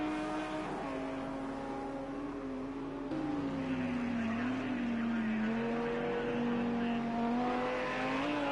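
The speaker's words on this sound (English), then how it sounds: "follow Jasko VR around the track in that distinctive 666 Lamborghini" A Lamborghini GT3 race car circles Sonoma in a racing video game, its engine a steady, close drone whose pitch dips and climbs through gear changes and corners, continuous with no talk.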